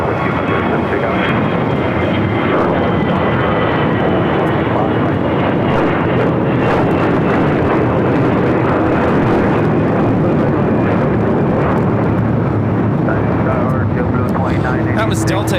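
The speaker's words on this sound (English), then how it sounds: "That was Delta 1875 taking off to Los Cabos on an A321." Delta Airbus A321 jet departing LAX for Los Cabos, a loud steady broadband engine roar sustained throughout, close and continuous, with faint talk underneath.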